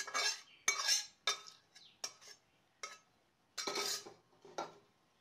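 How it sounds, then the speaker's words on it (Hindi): Paneer magaj is spooned into a serving bowl: a series of distinct metal scrapes and clinks of spoon against cookware, coming in short bursts with pauses, fairly close and with no talking. "अब हम इसको सर्विंग बोल में डाल लेते हैं।"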